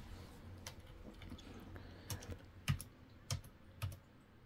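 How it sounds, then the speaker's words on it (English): Quiet keystrokes on a computer keyboard as a short command is typed, a few scattered clicks at first, then several sharper, evenly spaced key presses close by. "So type in disk part, D-I-S-K-P-A-R-T."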